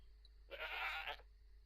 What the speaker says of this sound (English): An attackable goat.